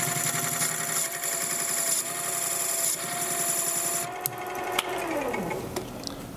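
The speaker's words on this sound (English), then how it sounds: "And I just flipped it over so I can bevel the back edge, clean it up." A mini mill spindle cuts a bevel along the edge of a metal part, giving a close, steady, high mechanical whine with a low hum beneath. Toward the end it winds down with a falling pitch and a few sharp clicks.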